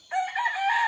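A fighting rooster (gamecock) crows once, loud and close, a single sustained call ringing out alone after a brief quiet start.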